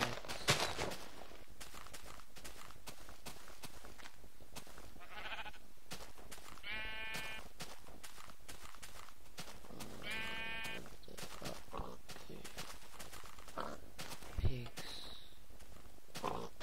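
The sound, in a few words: sheep bleating in the video game Minecraft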